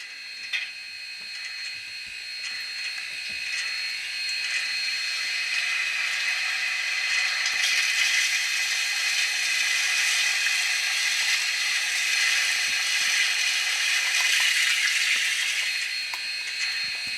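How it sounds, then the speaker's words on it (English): A model steam locomotive's water refill effect from an ESU LokSound decoder in a Rivarossi HO scale Allegheny 2-6-6-6 locomotive, a steady hissing rush of running water lasting many seconds, fairly close and with no voices. "You hear the hatch open, water goes in."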